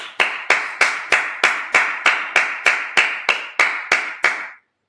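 A congregation at a Sabbath service claps in a steady, evenly spaced rhythm of about a dozen sharp, loud claps, then stops abruptly, with no talking.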